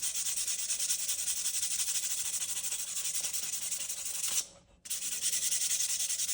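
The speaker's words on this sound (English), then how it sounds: "I'm going to sand it down, remove it a little bit" Sandpaper rubs back and forth along the wooden handle of a hand-forged axe, a soft, steady scratchy hiss with a brief pause near the end before the strokes resume; fairly quiet and close, no voices.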